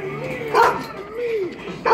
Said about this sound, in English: What are you barking about down there?